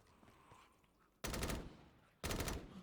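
A gun in Black Ops 3 custom zombies fires two loud, close bursts, each lasting about half a second, with faint background noise in between.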